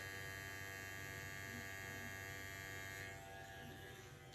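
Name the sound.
electric microneedling pen running, needles moving up and down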